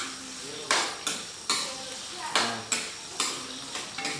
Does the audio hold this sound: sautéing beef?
yes